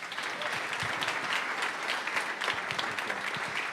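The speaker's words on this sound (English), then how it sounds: "Let's give him another applause, everyone." An audience at a tech and innovation hub inauguration in Raleigh claps steadily, with a dense, even applause throughout and no break.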